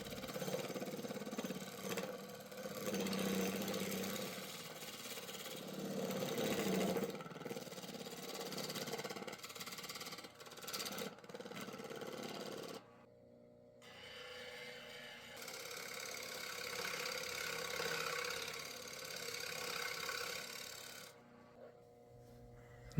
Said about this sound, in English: using my 1-inch flat scraper, I'm going to flatten the bottom